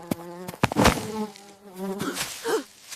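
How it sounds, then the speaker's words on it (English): A close buzzing insect, a bee, drones with a wavering pitch and a few sharp clicks at the start, without any talking. "This is a bee."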